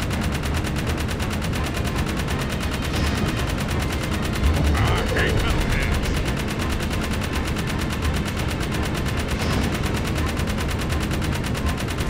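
Sustained turret gunfire in a video game, dense and continuous bursts filling the whole stretch under loud battle noise, with a voice briefly talking partway through.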